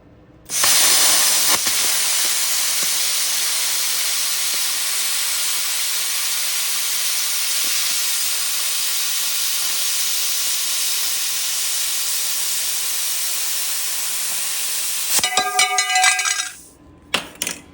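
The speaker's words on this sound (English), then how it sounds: "aluminum's a little bit harder to cut with a angle grinder, but plasma cutter makes quick work of that" A plasma cutter slicing through aluminum diamond plate, a loud continuous hiss that holds steady for about fifteen seconds, then sputters and clanks to a stop.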